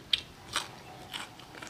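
Crispy fried chicken is bitten and chewed close up, a few sharp crunches in quick succession, then softer chewing.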